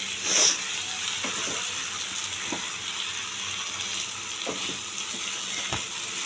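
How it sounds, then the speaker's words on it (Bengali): Shankar fish sautéed with spices in a pan, kosha style: a steady, close sizzle with a few faint scrapes and clinks, no one talking. "এই জন্য মাছটা আগে দিয়ে আমি একটু কষিয়ে নিচ্ছি মাংসের মতো করে।"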